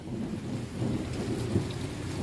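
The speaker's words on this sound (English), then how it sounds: "thunderstorms started rolling through" Thunderstorm on the Appalachian Trail, with heavy steady rain and a deep rolling rumble of thunder that swells midway, and no one talking.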